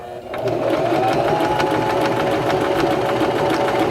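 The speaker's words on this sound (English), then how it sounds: "And now we can continue sewing, and this will sew the right side of our buttonhole." A Singer Start 1304 sewing machine sews the right side of a buttonhole, a loud, steady, rapid mechanical whir running continuously and close by after a brief start, with no talking over it.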